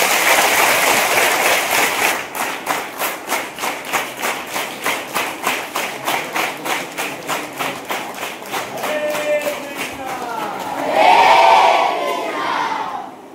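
A school audience at a nutrition fair applauds the principals, with rhythmic unison clapping in a steady beat that gradually tapers, followed by a brief swell of crowd voices near the end.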